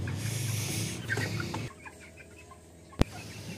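A flock of chickens being loaded for transport cluck and fuss up close, loud at first and then quieter, with a single sharp knock near the end and no talking.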